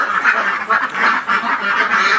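A flock of about a thousand farm ducks quacks loudly and close by, a dense overlapping chorus of nasal calls pulsing in waves with no talking.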